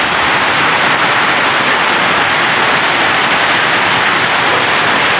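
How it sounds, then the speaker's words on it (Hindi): Dense, loud heavy rain pours down at night during a trek in a steady broadband hiss with no let-up and no voices. "इतनी भयंकर बारिश स्टार्ट हो चुकी है"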